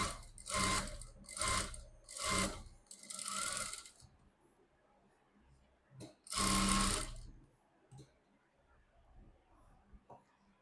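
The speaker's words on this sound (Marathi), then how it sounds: "वरून टीप मारत घ्यायचं आहे" Domestic sewing machine stitching a neck back design along the fabric edge, running in several loud bursts of a few seconds each, with short pauses and quieter handling sounds between runs.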